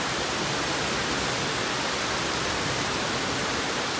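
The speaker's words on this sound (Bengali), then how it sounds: "খুব জোর বৃষ্টি নেমেছে," Heavy rain pouring down in a steady, loud, unbroken hiss that fills the whole space, with no voices or other sounds.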